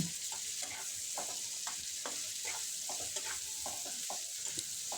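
Spiced masala sizzles steadily in hot oil while chopped tomato goes in, with a spoon scraping and stirring in repeated strokes over a constant frying hiss; no talking.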